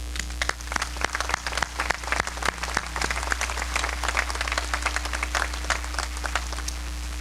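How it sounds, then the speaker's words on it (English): An audience at a 1987 Beverly Hills High School commencement applauds, with dense, sustained clapping from many hands that carries on evenly throughout. "Would you please join me in applauding them?"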